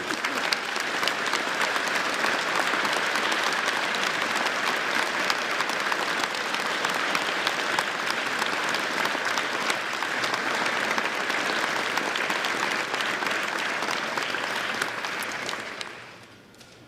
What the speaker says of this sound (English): can we all give them a well-deserved round of applause?